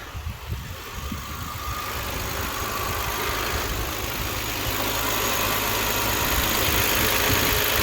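A Kia Sedona engine idles steadily with the air conditioning on and the radiator fans running, a constant mid-low hum and whir that swells slightly louder over several seconds, with no talking.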